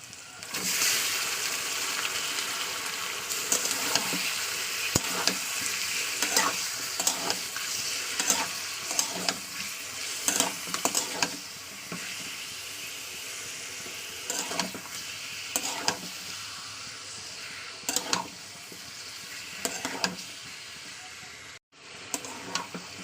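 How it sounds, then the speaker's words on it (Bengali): Chicken pieces fry in a small amount of oil with browned onions, a continuous loud close sizzle broken by repeated scraping and clacking strokes of stirring; no talking. "এবার আমি এখানে মাংসটাকে দিয়ে দেবো"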